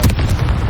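Fiery Confringo blast spells bursting in Hogwarts Legacy, a loud, dense boom with a rumbling low-end body that rolls on without a break through the whole moment.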